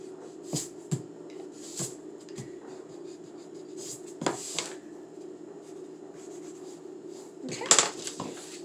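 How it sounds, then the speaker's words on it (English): A pencil eraser scrubs against paper in soft, scattered strokes while a 3D letter drawing is erased, faint and close, with quiet room noise between the rubs. "I'm going to erase everything that's not creating that 3D letter anymore"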